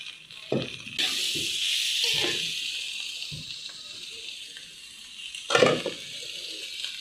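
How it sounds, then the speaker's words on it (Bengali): Vegetables go into a spice paste frying in hot oil in a pan, giving a steady loud sizzle and hiss with a few sharp clanks and stirring knocks, and no talking. "এই তো মশলাটা সুন্দর করে ভাজা ভাজা হয়ে গেছে। এখন আমি সবজিগুলো দিয়ে দিলাম।"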